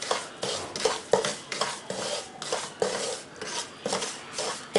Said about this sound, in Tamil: இப்போ இதையும் நல்லா மிக்ஸ் பண்ணி இந்த ரவாவோட சேர்த்து நல்லா வறுத்து எடுத்துக்கிறேன்.